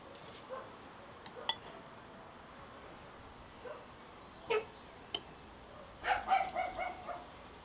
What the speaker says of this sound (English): Some of the dogs are out today.